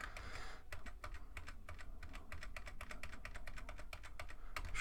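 Steady typing on a computer keyboard during a PowerPoint tutorial, dense rapid key clicks close to the microphone with no pauses and no talking.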